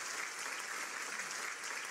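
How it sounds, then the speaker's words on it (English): An audience at the Rally of Hope applauds President Sahle-Work Zahedi after her keynote address, a thick, continuous burst of clapping that stays steady throughout. "join me in giving another round of applause to Her Excellency President Sahle-Work Zahedi"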